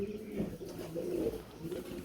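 Soft, low cooing of Danish pigeons, a few throaty rolling coos close by with no talking.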